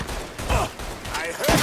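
Shotgun blasts in the Mafia 3 video game, a couple of loud booming shots with mechanical clatter between them, close and heavy, with a voice shouting over the action.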